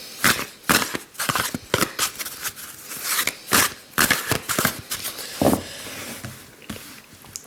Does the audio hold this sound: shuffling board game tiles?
yes